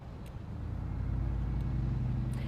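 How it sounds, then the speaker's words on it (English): Steady low road traffic rumble from a line of cars queued on both sides of a closed intersection, a continuous engine drone that swells slightly and holds, with no voices. "There is a line of cars. This is what it looks like on both sides of Academy as people try to make it through the intersection."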